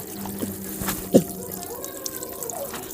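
Water trickles and dribbles from the opened drain plug of an Isuzu 4HF1 diesel engine in a workshop, a light splashing pour heard close up with a brief clunk and faint background sounds.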